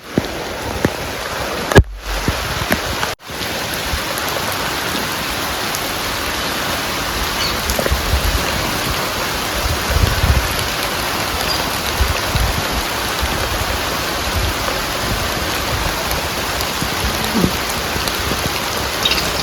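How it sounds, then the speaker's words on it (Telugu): Heavy rain pouring down steadily, a dense even hiss of drops striking surfaces close by, continuous throughout with a brief dropout early on. "వర్షం మాత్రం బాగా పడుతుందండి."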